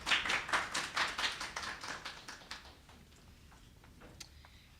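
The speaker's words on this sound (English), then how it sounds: "Can you please welcome her with a round of applause?" A small audience at a book launch on a university campus claps to welcome a speaker, the hand claps fairly close and distinct at first, then thinning out into a few scattered claps and near quiet.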